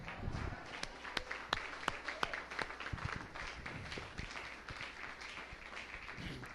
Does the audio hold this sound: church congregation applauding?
yes